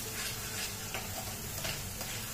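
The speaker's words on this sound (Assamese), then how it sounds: "এতিয়া গেছৰ ফ্লেমটো একেবাৰে ল'ত আছে ল'তে গোটেইখিনি বস্তু আকৌ ভাজি লওঁ" Spices and curd fry gently in a pan over a low gas flame, giving a soft, steady sizzle with faint intermittent stirring scrapes, quiet and close, with no talking.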